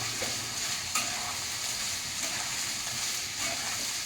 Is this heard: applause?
no